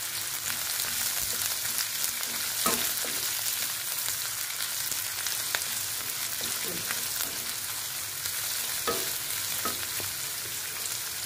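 Onion frying in oil in a pan, giving a steady soft sizzle throughout with a few scraping clicks of a spoon stirring it, fairly quiet and close.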